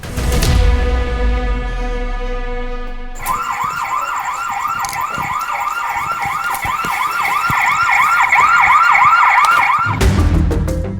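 An electronic alarm sounds inside an abandoned, deserted mansion: after a low rumbling opening, a loud warbling siren-like tone rises and falls steadily for about seven seconds, then cuts off abruptly.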